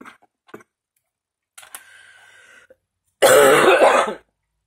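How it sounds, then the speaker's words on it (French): A single loud, harsh cough bursts out close by, lasting about a second, from a woman with a Covid cough, preceded by a few faint clicks and a soft hum. "Par-dessus la toux du Covid."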